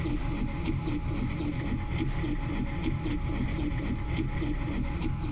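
Boat engines run in a video game during a blood moon battle on insane mode, giving a steady, low droning rumble with a faint windy hiss and no break or talk over it.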